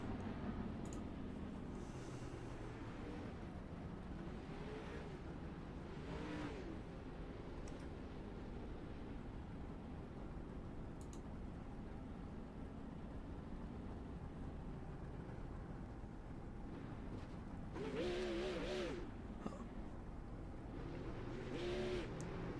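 Super sprint race cars shutting down after a dirt-track heat race, a distant, continuous engine rumble with a few swells of revving from cars passing farther off.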